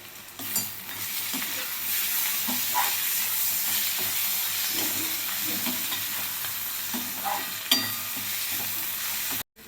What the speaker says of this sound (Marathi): टोमॅटो पण आपल्याला मऊ होईपर्यंत भाजून घ्यायचं आहे त्या कांद्याबरोबरच